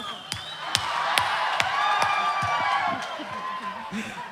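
Live audience at an Assamese stage comedy show clapping and cheering, a steady crowd wash punctuated by sharp hand claps and whoops, with voices mixed in throughout.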